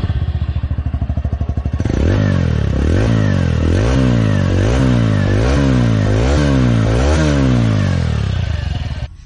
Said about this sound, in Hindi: सबसे पहले आप इसके साइलेंसर का साउंड सुन लें